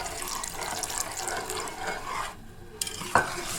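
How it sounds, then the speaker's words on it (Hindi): A spoon works cornflour slurry through chickpea curry (Kathiawari cholay) in a pot, giving a steady, wet, scraping churn with a watery texture, close up and continuous, then two sharper clinks near the end. "कॉर्नफ्लोर को हल्के हल्के हाथ से इसमें मिक्स करते रहूंगी, साथ साथ में चमचा चलाते रहूंगी"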